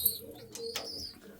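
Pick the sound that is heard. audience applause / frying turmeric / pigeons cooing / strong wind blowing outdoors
pigeons cooing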